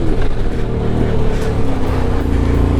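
A big motorcycle engine riding on dirt gives a loud, steady, droning roar close by with slight pitch wavering, no talking.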